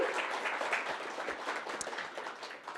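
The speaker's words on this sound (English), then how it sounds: "If you guys could give them a warm round of applause" Audience at a community entrepreneurship event applauds students from an entrepreneurship academy, a dense, even wash of clapping held at a moderate distance with little talk.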